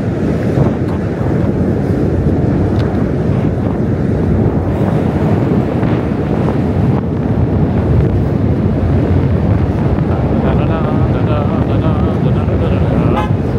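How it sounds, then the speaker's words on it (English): Strong wind buffets the microphone steadily during a walk through New York City, a dense roar with faint car horns and traffic behind it. "There's a strong wind right now."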